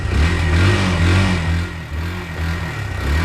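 A Barako motorcycle engine revs steadily while warming up, a loud, close, continuous mid-pitched drone that rises and dips slightly over a few seconds, with no talking.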